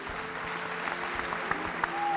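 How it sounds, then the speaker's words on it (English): A crowd clapping steadily, moderately loud and continuous, with a few sharper claps standing out and a faint voice underneath. "You are clapping for yourself, I'm sure."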